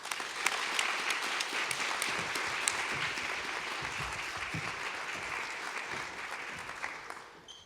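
Audience applause welcoming playwright David Henry Hwang and director Leigh Silverman to the stage at a 'Yellow Face' event, a steady, moderately distant wash of clapping that tapers off at the end.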